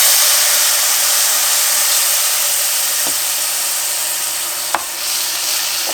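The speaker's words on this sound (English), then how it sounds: "we're going to add in a little bit of white wine just to deglaze" A few tablespoons of white wine hit a hot pan of cooking herbs and sizzle loudly, a strong continuous hiss that fades slightly over several seconds, broken by a couple of soft clicks of a utensil.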